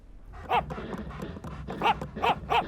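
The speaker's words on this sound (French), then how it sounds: "j'aurais juré entendre mon chien." A cartoon dog gives several sharp barks, one early and then three in quick succession near the end, over a faint background.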